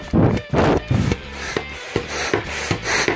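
Double-chambered air pump from an Intex Excursion 5 inflatable boat kit being worked, giving repeated loud rushing whooshes of air in and out in an uneven pumping rhythm, up close.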